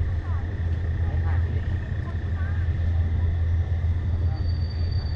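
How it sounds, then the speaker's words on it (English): A tourist train from Bangkok crawls along the Death Railway by the Kwai River, giving a steady low rumble with faint squeals and clanks at a distance under a continuous hum. "So that's the train from Bangkok when you get on the tourist train."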